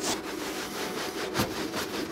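A brush scrubs caked dirt off the wheel well of a Tesla in quick rasping strokes, close and fairly quiet, with several sharper scraping passes standing out.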